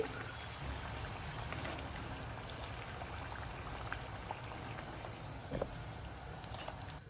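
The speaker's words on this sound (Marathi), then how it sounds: "असं ब्राऊन रंगावर तळून घ्यायचं" Crispy vegetable cutlets made without bread deep-frying to brown in hot oil, a steady, dense bubbling hiss that runs unbroken and close throughout.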